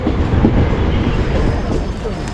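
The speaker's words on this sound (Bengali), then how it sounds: "দক্ষিণেশ্বর কিন্তু ঢুকে গেছে অলরেডি ট্রেন" A train rumbles steadily into Dakshineswar station, a loud continuous roar of rail noise with faint rattling throughout.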